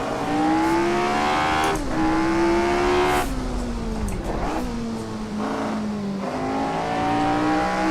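A Lotus 25 on cross-ply tires races around Brands Hatch in Assetto Corsa, its loud engine note rising and dropping in pitch through throttle lifts and gear changes, continuous and close.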